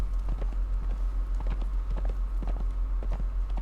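Horse hooves clip-clop in a steady, even gait while riding in the video game Conan Exiles, quick regular beats over a low constant drone, with no voices.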